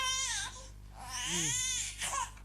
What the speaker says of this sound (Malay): Aku dengar suara bayi ah.